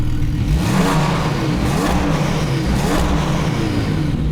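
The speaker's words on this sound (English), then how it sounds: "Now let's rev this car and show you where the rev limiter is at on this 911." A Porsche 911 Carrera S Stage 2 tuned to 450 hp, its engine revved while stationary, loud and close, with several rising sweeps of revving toward the limiter and no talk.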